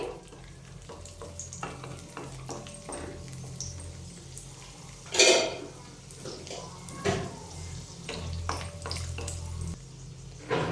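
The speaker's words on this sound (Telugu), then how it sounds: "ఇప్పుడు మనం డ్రై ఫ్రూట్స్ అయితే వేయించుకుందాం." Dry fruits fry in hot ghee for rava kesari, a soft continuous sizzle broken by repeated scraping and stirring knocks in the pan, with one louder clatter near the middle.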